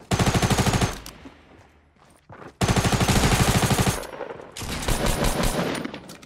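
Rapid automatic gunfire in the Fortnite video game, loud close bursts of fast repeated shots separated by a short quieter gap.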